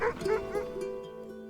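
Sled dogs in the video game Kona 2: Brume give a few close yips and whimpering barks, followed by a lingering tonal hum as they fade.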